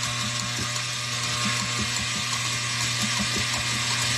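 An electric mixer fitted with a whisk attachment beats cream into butter, giving a steady motor whir with a rhythmic ticking and clatter running through it, close and continuous, with no voices.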